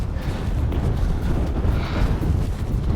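Strong wind roars across the black sand beach in Iceland, driving sand against the microphone in a dense, continuous rumble with gusty swells and no voices.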